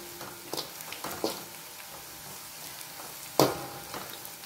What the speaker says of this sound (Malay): Kemudian kita garingkan dia ya, dalam minyak, dalam anggaran cukup ini.